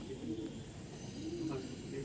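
Andhra pigeons, a male and a female, cooing softly at close range in a low, continuous murmur with faint background noise throughout.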